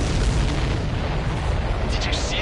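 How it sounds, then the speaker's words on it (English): A supply ship explodes after a missile hit in Ace Combat 7, producing a loud, sustained rumbling blast that fills the clip, with radio voices talking over it. "Did you see that explosion?"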